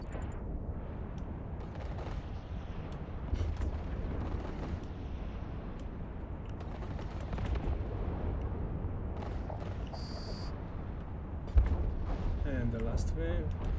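Ship weapons firing during a level 4 combat mission in the space game Eve Online, flown in a Dominix battleship: a steady rumbling barrage of booming shots, with one sharper hit near the end, under continuous talk.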